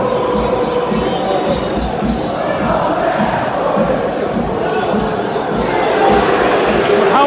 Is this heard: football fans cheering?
yes